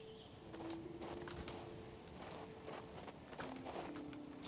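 Quick horse hoofbeats in the video game King's Bounty 2 clip-clop in a steady rhythm over a low background hum, moderately close and not very loud.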